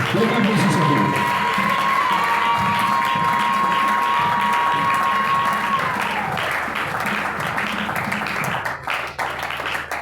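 A church congregation claps and cheers steadily, a sustained wash of applause with shouts, while a preacher's voice and a held musical tone carry over it.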